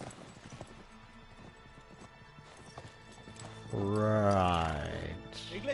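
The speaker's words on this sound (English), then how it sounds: "they're horses" Horses in the video game Uncharted 3 clip-clopping at a gallop, followed by a loud close neigh near the end, with a voice talking over the hoofbeats.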